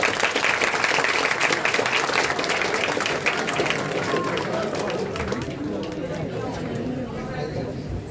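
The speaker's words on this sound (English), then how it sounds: "Huge round of applause for him" Audience applause at an alumni lecture in a school classroom or hall, moderately loud and steady, easing slightly toward the end, with chatter and a voice mixed in.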